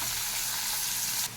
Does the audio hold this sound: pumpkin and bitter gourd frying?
yes